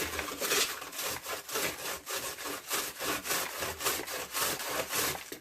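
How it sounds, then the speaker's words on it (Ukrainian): Cabbage rubbed on a coarse grater at close range, a quick, regular series of rasping scrapes, about a dozen strokes back and forth with no talking. "І натираємо її на крупній терці"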